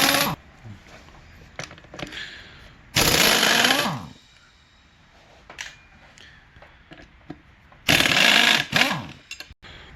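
Bursts of a power tool, likely an impact wrench, loosening the rear sprocket nuts on a 2007 Kawasaki Ninja ZX6R during a chain and sprocket change: two loud, roughly one-second whirring rattles with quieter clicks and handling noise between them.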